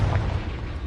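A Confringo explosion spell in a Hogwarts video game erupts as one loud, rumbling boom with a heavy low-end blast that stays dense and sustained through its short length.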